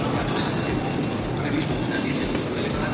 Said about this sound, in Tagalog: So ito yung tren na yun guys.